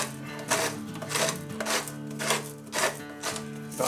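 A salt grinder twisted over pizza dough for a wood-fired New York style pizza, giving a series of rhythmic crunching, grinding bursts, close and fairly clear, with no talking.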